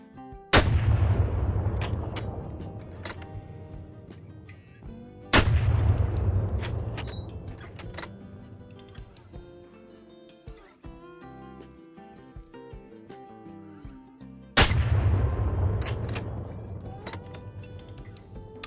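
Three loud rifle shots, each a sharp boom with a long rolling echo, ring out several seconds apart while hunting axis deer in the Call of the Wild video game; no talking.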